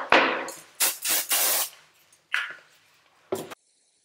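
Several short pressurized hairspray hisses come in quick bursts, a cluster early on and two more spaced apart, with silence between.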